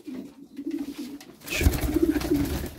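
Pigeons in a loft at night coo softly during feeding, low repeated throaty calls rising and falling close by, with shuffling and rustling growing busier in the second half.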